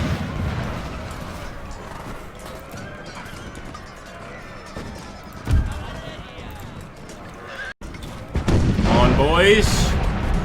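Cavalry horses in the video game Imperial Splendour, heard as whinnies and hoof clatter within a dense, loud battle soundscape, with a voice talking over it.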